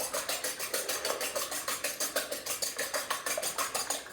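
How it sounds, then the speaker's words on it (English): Three eggs whisked in a bowl with quick, steady rhythmic strokes, each beat a bright clatter of metal on the dish, repeating evenly and close up with no talking. "I'm gonna whisk them up real quick"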